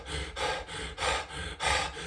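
A person demonstrates quick, shallow, stressed breathing: rapid rhythmic in-and-out breaths, about four in two seconds, close and breathy with no talking.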